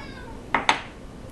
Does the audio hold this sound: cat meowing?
yes